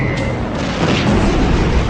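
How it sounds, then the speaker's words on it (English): American artillery and gunfire shelling the stone town of Troina in Sicily during the Second World War, heard as a loud, rumbling roar of booms and blasts that runs through the whole short burst. "American gunfire tears the city to pieces"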